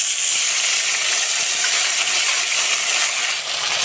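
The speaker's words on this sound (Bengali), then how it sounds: "ফোড়ন করব শুকনো লঙ্কা, গোটা জিরে, গোটা গরম মশলা, তেজপাতা দিয়ে দেব তেলে।" Dried red chillies, whole cumin, whole garam masala and bay leaf tempering in hot oil for a meatless khasir chorbi dish, giving a steady, loud, close hiss of sizzling that holds evenly throughout with no talking.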